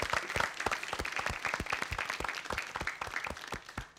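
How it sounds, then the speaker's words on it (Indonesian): Studio audience applause on an Indonesian comedy quiz show: dense, fast clapping from a crowd, close and steady for about four seconds. "saya beri tepuk tangan hadirin sekalian"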